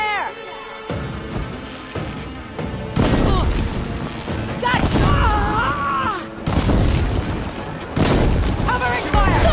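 Gunfire and booming blasts in Horizon Forbidden West arrive in heavy bursts after a quieter opening, loud and dense, mixed with game music and voices.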